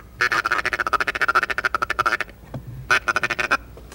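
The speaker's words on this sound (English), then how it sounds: "like this bunch of ducks coming our way." Wild ducks quack loudly while flying toward decoys during a late-season hunt, a rapid run of rhythmic calls, a brief pause, then another quick burst.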